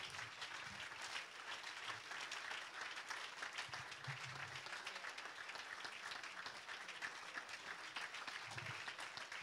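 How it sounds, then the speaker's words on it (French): A congregation at a church worship service claps steadily and continuously, a dense, even wash of many hands at a moderate distance, with faint low voices now and then underneath. "Si tu es prêt ou prête de servir Dieu, pendant 2 minutes, je te demande d'acclamer."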